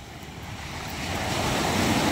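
Sea waves rush and swell at the fish terminal in Tanza, Cavite, the roar of surf growing louder over a couple of seconds, with wind noise on the microphone.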